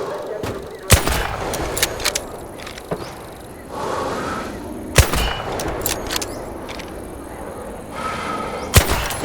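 Rifle shots in Hell Let Loose: Vietnam, sharp loud cracks spaced several seconds apart with a thudding low tail, set against a steady ambient battlefield bed.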